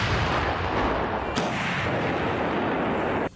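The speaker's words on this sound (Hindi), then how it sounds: "रूसी सैनिकों ने फिर तेजी से तोपों में गोले भरे और इशारा मिलते ही उन्हें निशाने पर दाग दिया गया" Russian artillery guns fire shells in a dense, continuous roar of booming blasts, with one sharp crack standing out partway through and no voices.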